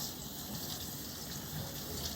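Asparagus spears are rinsed under a running kitchen tap, producing a steady, continuous hiss and splash of water that stays even and fairly close throughout, with no talking.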